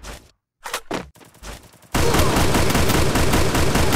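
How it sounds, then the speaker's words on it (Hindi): Sustained burst of Thompson submachine gun fire in an online shooter match, loud and continuous after a few scattered shots and a short pause, with no talk over it. "उसके पास थॉमसन है, भून डालेगा।"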